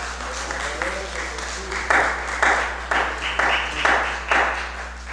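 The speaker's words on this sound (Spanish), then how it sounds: "Denle un aplauso a Él" A church congregation claps during a Spanish-language worship service, rhythmic bursts of hands coming in regular beats over a steady low hum, with voices faintly underneath.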